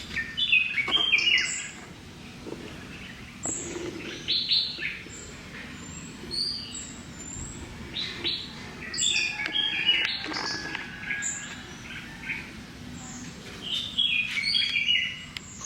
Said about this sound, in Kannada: ಇಲ್ಲಿ ಪಕ್ಷಿಗಳು ಬರೋದಕ್ಕೆ ಮೇಲೆ ಈಗ ನಮ್ಮ ಡಾಕ್ಟ್ರು ಪಕ್ಷಿಗಳಿಗೆ ಬಂದವಕ್ಕೆ